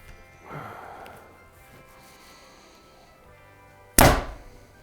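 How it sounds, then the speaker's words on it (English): An Elite ERA compound bow fires with one sharp, loud thunk of the string release close by, fading quickly, after a soft rustle of drawing and a quiet pause. "I would say this is just kind of a normal sounding bow"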